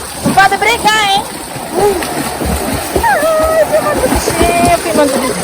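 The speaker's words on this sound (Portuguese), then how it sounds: "estão brincando aqui, as criançadas nadando" Children splashing while swimming and playing in a giant pool, continuous close splashes and sloshing water with children's voices and shouts mixed in.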